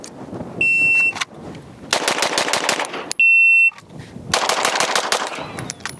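Pistol shots ring out in a fast Bill drill, with two tight rapid-fire strings, each started by a sharp electronic timer beep, loud and close with short pauses between.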